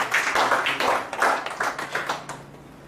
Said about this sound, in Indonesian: Tepuk tangan untuk Paulus.